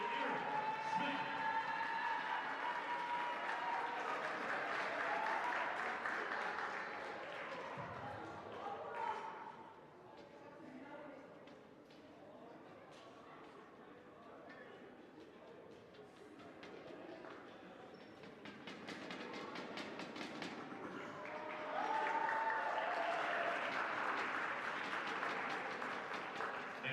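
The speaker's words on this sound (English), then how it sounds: "Please give a warm round of applause for our graduating trainers, Ayus, Charlie, and Eric Smith" Crowd applause fills a gym at a women's college basketball game as graduating trainers are honoured, steady clapping swelling at the start and again near the end, with a public-address voice speaking over the quieter middle.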